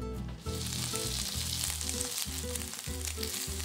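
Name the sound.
pork and tofu meatballs frying in vegetable oil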